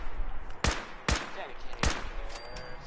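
Three heavy, sharp gunshots from a weapon in Fallout 4, spaced roughly half a second apart, each a loud, close burst with a short tail over a low background hum.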